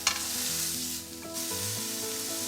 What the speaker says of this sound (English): I want a good sear on all sides of the beef